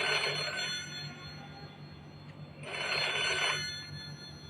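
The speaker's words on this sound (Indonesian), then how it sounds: "Tiba-tiba teleponnya berdering dan berbunyi." An old telephone bell rings in two long bursts with a pause between them, clear and fairly close in a quiet room.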